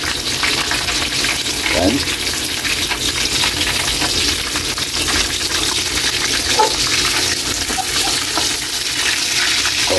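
Yellow tulingan fish frying in a pan of oil, giving a steady, dense, close sizzle throughout, with a brief word spoken near the end.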